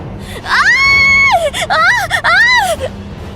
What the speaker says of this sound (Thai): เธอเผลอกรีดร้องออกมาด้วยความเจ็บปวด